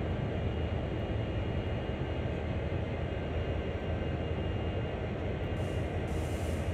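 An SD40-2 diesel freight locomotive coasting on the Cumberland to Hyndman line in Train Sim World: a steady, unbroken rumble and rolling noise with no pauses or talk, holding level throughout.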